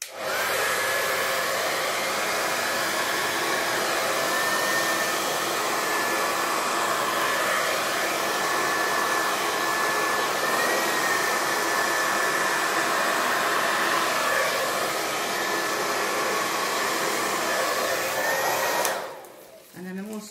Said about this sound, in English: I'm going to put it on the cool setting and I'm going to blow up from the white and up.